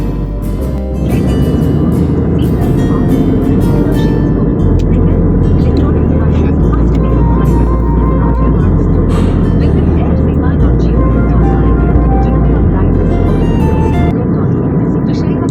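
Steady, loud low roar of an airplane cabin in flight, with constant engine drone filling the whole clip and a voice speaking over it.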